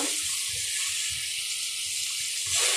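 Water poured into a hot pan of fish curry with onion and tomato, setting off a steady, close hissing sizzle that holds for a few seconds and swells slightly at the end, with no voices.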